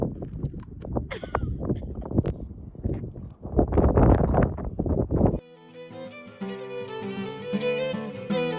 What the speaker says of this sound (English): there was actually these two horses